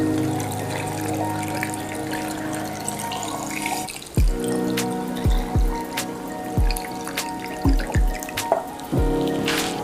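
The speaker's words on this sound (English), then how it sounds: "And just top it off with water." Water poured into a jar of pineapple scraps and brown sugar for homemade tepache, a steady splashing pour with gurgling drops and bubbling, close up and without talk.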